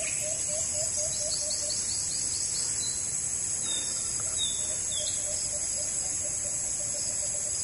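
A bird calls in short repeated notes against a steady wall of insect and cricket chirring, with a few sharper chirps mid-way; no one speaks.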